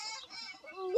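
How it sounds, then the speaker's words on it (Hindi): A desi rooster gives a short burst of clucking, close and clear, a few quick throaty notes that rise at the end. "देसी वाला कुकड़ा बोलते हैं, मुर्गी हम लोग कुकड़ा बोलते हैं, और हिंदी में मुर्गा बोलते हैं"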